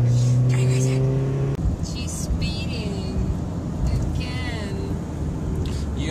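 A car accelerates hard in a drag race, the engine rising and revving under the cabin's road rumble while a person talks and murmurs over it nearby.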